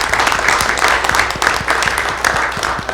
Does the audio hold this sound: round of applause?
yes